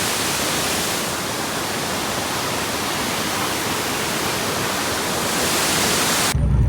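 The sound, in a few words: hidden waterfall in the jungle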